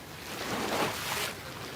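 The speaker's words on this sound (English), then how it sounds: "Tide's coming in." Waves of an incoming tide wash ashore on a beach in Japan, a broad close surf swell rising to a rush around the middle and easing off, mixed with wind buffeting the microphone.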